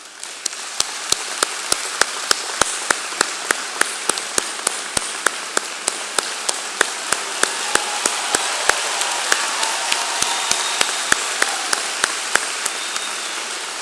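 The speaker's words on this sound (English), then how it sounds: "please stand for their last round of applause as a graduate" A large crowd claps for graduates at a university commencement ceremony, a dense, steady roar of hands that holds for the whole stretch, with sharp tapping clicks at a regular beat on top.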